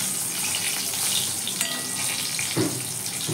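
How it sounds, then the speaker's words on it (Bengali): Brinjal slices frying in hot oil in a wok give a steady, close sizzle and crackle with a few brief louder spatters, and no one speaks. "বেগুনগুলো ভালো করে ভেজে নেব"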